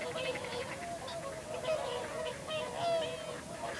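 Wildfowl and wading birds calling at Martin Mere wetland in Burscough, a steady chorus of overlapping honks and squawks, fairly distant and continuous throughout.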